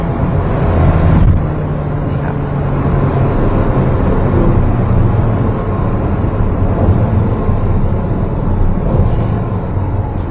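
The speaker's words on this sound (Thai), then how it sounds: "ก็จะมีเสียงเครื่องยนต์คำรามอยู่ตลอดนะครับ" Ferrari Portofino engine in sport mode, a steady, loud, deep rumble heard from inside the car that holds constant throughout with little change in pitch.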